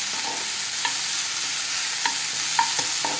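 Cucumber with a pinch of turmeric softening in a pan for a tangy cucumber sesame chutney, with steady low sizzling and several distinct scraping stirs of a spoon against the pan, close and clear with no talking.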